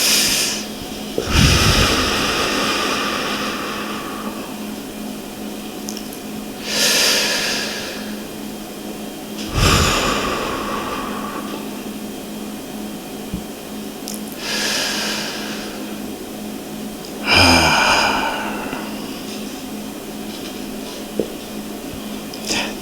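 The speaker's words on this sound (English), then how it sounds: "can we take a few deep breaths?" A group of people in a talk setting taking slow, deep breaths together, several long whooshing inhales and exhales spaced a few seconds apart, with faint room hum between and no talking.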